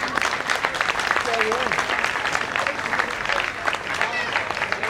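Steady, dense applause from a large crowd at a Ganpati puja fills the whole stretch, with voices and cheers mixed into the clapping.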